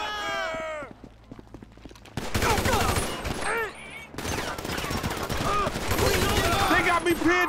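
Heavy gunfire crackles through a GTA V shootout, with bursts and sustained volleys, near and loud, under frantic overlapping shouts from characters amid the firefight.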